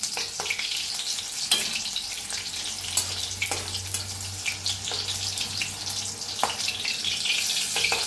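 Green chillies frying in oil in a pan for Marathi baingan bharit, a steady close sizzle and crackle with occasional soft scraping stirs and clicks, without voices.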